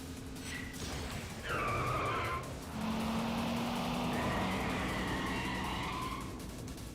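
A car in the Yakuza 5 video game drifts with tires skidding and squealing, several long screeching sweeps over a continuous engine roar, fairly loud and with no talking.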